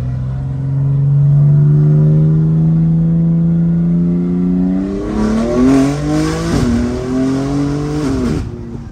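A 600-horsepower stage 2 BMW M3 Competition engine revs up loudly nearby, pitch climbing steadily, then shifting gears with a couple of quick drops and rising again.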